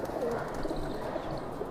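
Madrasi pigeons just landed after a morning flight coo softly at close range, a low murmuring flock sound over a steady background.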